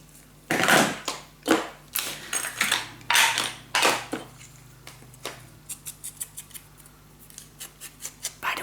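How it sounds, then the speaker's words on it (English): Scissors snip the corners off paper for a scrapbook mini album, a close series of crisp cuts that start strong and then come as quicker, lighter snips, with no talking. "I always like to cut the little corners"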